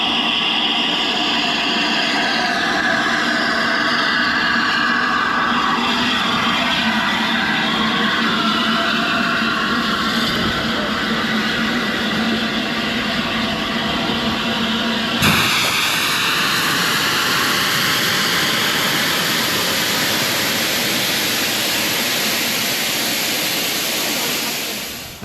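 Steam locomotive pulling into the station at Didcot railway centre, a broad continuous roar and hiss of steam that stays loud and steady, shifting in tone midway as it passes close, then cutting off at the end.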